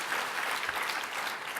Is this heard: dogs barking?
no